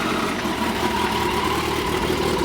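A 2009 Kawasaki Concours 14 motorcycle with its stock exhaust idles nearby, a steady, even engine rumble that holds alone without speech.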